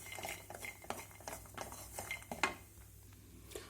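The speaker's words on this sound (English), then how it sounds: "I'm going to now transfer it to a grinding jar" Cooked coconut scraped with a utensil from a metal pan into a grinding jar, giving a run of close, irregular clinks and scrapes with a sharper knock near the middle, no talking.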